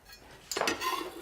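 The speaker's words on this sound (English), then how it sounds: "I seem to spend half my life chopping up garlic." A kitchen knife striking a cutting board while chopping garlic, a short burst of crisp clattering contact after a moment of quiet, close and moderately loud.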